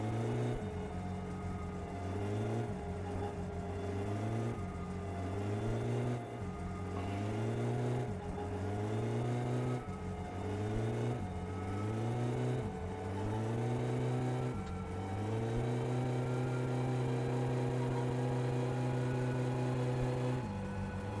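Struggling car engine in the video game My Summer Car, droning loudly and continuously, its pitch repeatedly rising then dropping back every couple of seconds as it strains without gaining speed, ending in a steady held note.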